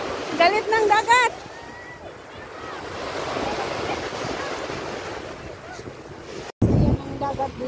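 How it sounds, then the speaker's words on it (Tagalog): Manila Bay sea waves wash and rumble steadily under gusty wind noise, with voices talking briefly at the start and again near the end. "Yan ang dagat dito sa Manila Bay."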